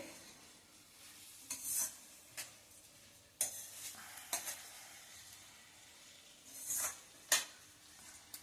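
Rice being sautéed in a pan over a medium gas flame, quiet soft sizzling punctuated by several scraping stirs and light clinks of a spoon against the pan.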